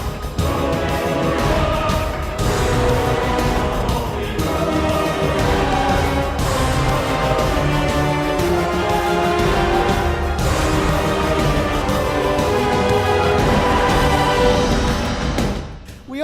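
Music from the Destiny: Rise of Iron video game soundtrack plays as dense, continuous orchestral music, loud and full throughout, fading slightly at the very end.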